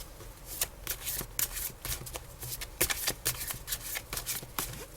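Tarot cards are shuffled by hand in a rapid run of crisp riffling snaps and soft slaps, close and continuous for several seconds with no speech.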